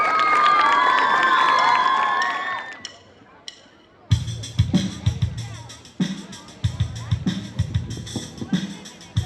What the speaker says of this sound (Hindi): तो तालियों के साथ स्वागत कीजिए।